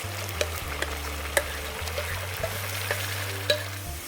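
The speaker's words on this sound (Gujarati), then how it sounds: "આમાં છે એ ડુંગળીની પેસ્ટ નાખી દેશું" Onion paste frying with garlic paste in hot oil in a pan while preparing pav bhaji, giving a steady close sizzle with occasional stirring scrapes and a low hum underneath, no talk.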